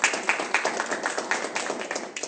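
A small crowd claps at a business meetup in Surabaya, a dense run of quick overlapping hand claps heard fairly close, with no one speaking over it.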